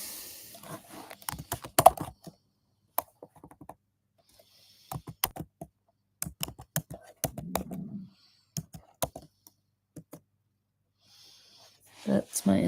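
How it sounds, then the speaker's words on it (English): Someone types on a computer keyboard in quick close clatters of keystrokes broken by silent gaps, with a few faint breaths and whispers between bursts. "I'll type it."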